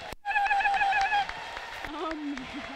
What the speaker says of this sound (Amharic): እልልታ ከዚህ በላይ ጭብጨባ ከዚህ በላይ